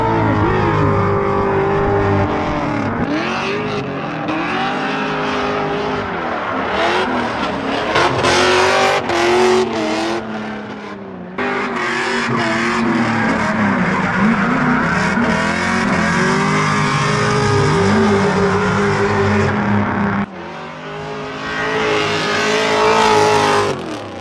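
Drift cars, among them an IS300, race at Suika Circuit with engines revving hard and near, a continuous roar that surges and dips through the run, with tire squeal mixed into the noise.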